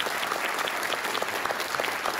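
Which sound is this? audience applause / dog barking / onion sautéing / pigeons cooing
audience applause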